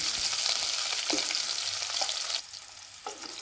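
Chopped onion dropped into hot oil with garlic, a loud steady sizzle and crackle close by that eases into a softer fry after a couple of seconds, with a few stirring clinks and no talk.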